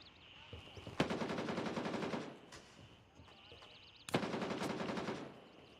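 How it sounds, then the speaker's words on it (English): Automatic weapon fire in a shooter video game rattles out in two long bursts of rapid shots, each several seconds long and separated by a short pause, heard at moderate loudness with no talking. "Gunfire back there."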